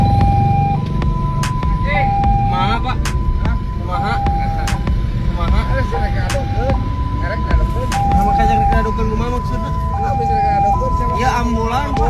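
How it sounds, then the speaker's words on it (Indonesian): An ambulance siren cycles steadily between two tones through heavy traffic jam noise in Bandung, Indonesia, with people talking over it throughout. "mobil ambulans berupaya melintas di tengah kemacetan sambil menyalakan sirine tanda darurat"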